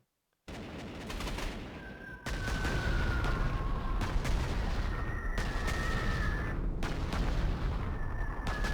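Artillery fire in the Panzer Corps 2 video game, a loud dense wall of booming gunfire and explosions that starts suddenly after a brief silence and rumbles continuously, with faint tonal whistles overhead.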